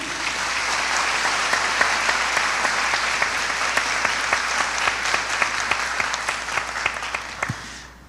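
A crowd applauding steadily for several seconds at a funeral Mass for a priest, dense clapping that thins out into scattered individual claps toward the end.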